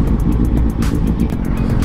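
A Yamaha XSR 155 motorcycle engine revs close by, a deep, throbbing rumble that rises and falls briefly over a couple of seconds.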